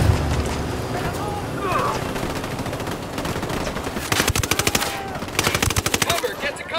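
Automatic gunfire crackles in rapid bursts in the video game Ghost Recon Wildlands, with sharp repeated shots thickening near the end over a busy battle backdrop while voices shout.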